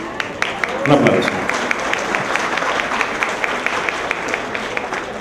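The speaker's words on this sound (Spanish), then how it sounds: "Un aplauso." Audience applause at an event on data protection and inclusion of older adults: sustained clapping from a seated crowd, steady and fairly loud, swelling briefly near the start, with voices murmuring underneath.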